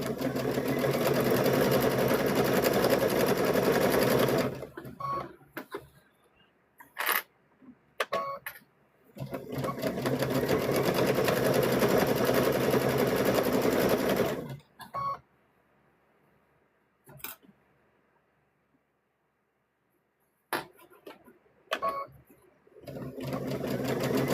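A sewing machine stitches a seam on a stuffed bear's legs in loud, steady runs of motor whir, each several seconds long, separated by quiet pauses with small clicks and handling noises.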